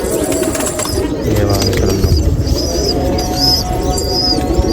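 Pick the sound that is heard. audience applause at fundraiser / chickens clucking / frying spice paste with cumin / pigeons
pigeons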